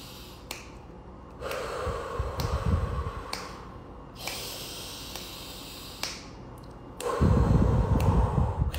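Slow, deliberate breaths in and out during a guided 3x3 breathing exercise, airy bursts of a few seconds each alternating with quieter gaps, the final exhale loud and close.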